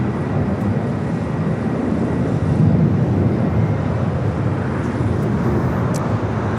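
A China Airlines Cargo Boeing 777 freighter jet at LAX, a loud continuous broadband engine roar holding steady throughout with no talking.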